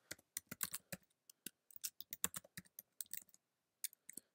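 Someone types an email address on a computer keyboard, and the keys tap out a quick, uneven burst of crisp, close clicks with brief pauses, quiet and isolated, with no voices.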